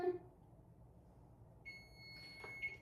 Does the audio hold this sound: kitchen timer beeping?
yes